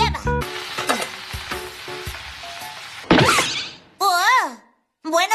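Food sizzles in a hot frying pan with a steady hiss, broken by a loud splash and clatter partway through, then voices take over in short animated bursts.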